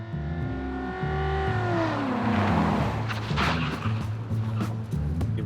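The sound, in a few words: car driving zigzag evasive maneuver in ambush simulation test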